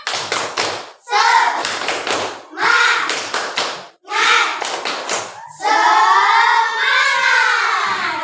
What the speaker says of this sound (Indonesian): Nah, satu kali tepuk semangat.